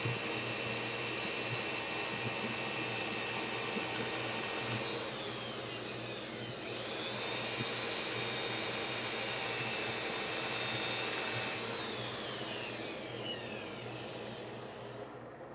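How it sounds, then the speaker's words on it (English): A power sander drones loudly and steadily throughout, with slight shifts in pitch as it moves across the wood, no voices. "I'm going to spare you the rest of the sanding here."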